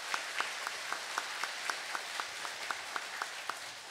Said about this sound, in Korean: 성가대에 감사의 박수 주세요